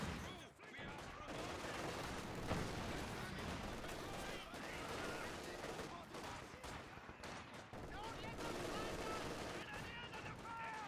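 Infantry gunfire rattles in a Company of Heroes 2 battle, with dense bursts of rifle and machine-gun fire and distant explosions crackling continuously, mixed with a voice talking over it.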